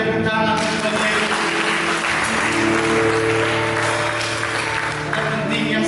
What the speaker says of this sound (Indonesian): Mari berikan tepuk tangan kepada Yesus.